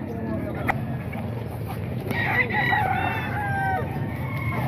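A straight-comb rooster offered for sale crows out of a noisy background hum, with its call rising and breaking across the middle of the clip and a voice talking in the background.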